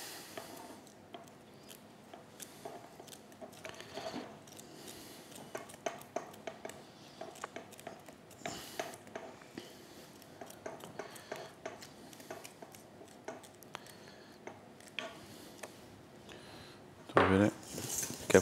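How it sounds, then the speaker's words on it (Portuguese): A knife chopping pineapple on a kitchen board while a pineapple cake is being made, heard as soft, irregular tapping and clicking that stays faint and close, with a louder clatter near the end. "Agora vamos picar aqui só um pouquinho de ananás"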